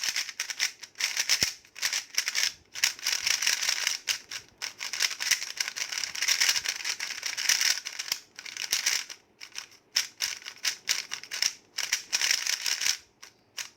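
Rapid, dense plastic clicking and clacking from a MoYu speedcube being turned quickly, in bursts with brief pauses, close and fairly loud.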